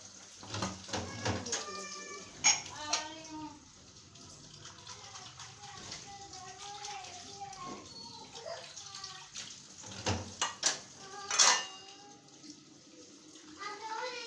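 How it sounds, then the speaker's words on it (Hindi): Dishes, pots and pans being washed at a running tap in a home kitchen, water splashing with clinks and knocks throughout while someone talks over it. "हम साथ साथ ही बर्तन धो लेते हैं"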